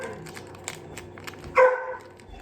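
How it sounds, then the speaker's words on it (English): An indoor dog gives a single loud bark near the end, following faint earlier yips and background clicks in a quiet room. "Forgive my dog. He in there barking."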